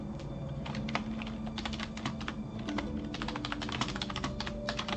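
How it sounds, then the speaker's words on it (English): Fast typing on a computer keyboard: a rapid, uneven stream of close, crisp key clicks, alone without any voices. "I hope you're appreciating my super fast typing."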